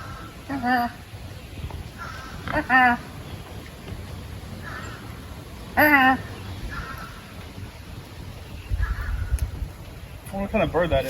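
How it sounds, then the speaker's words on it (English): A crow caws in the woods of the Pine Barrens near old mill ruins, several harsh calls in short bursts spaced a couple of seconds apart, moderately near, with someone talking at times. "What kind of bird that is?"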